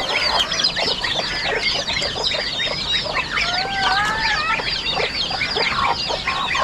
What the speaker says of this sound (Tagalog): May mga sisiyo pa tayo dito ng manok, pabo.